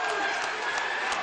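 Basketball fans of the Carteret side come alive in a dense, continuous wash of crowd noise and cheering that fills a gymnasium for a brief moment without pause.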